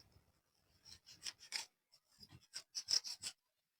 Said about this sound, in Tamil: தற்போது அந்த வேர் பகுதியை கட் பண்ணிக்கிறோம் அந்த காட்சி பதிவை காணலாம்